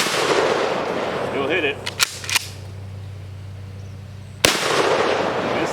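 A Mossberg Nightstick shotgun fired from the hip goes off in three sharp, loud blasts, two close together and one after a pause, with outdoor noise between them and a brief spoken remark early on.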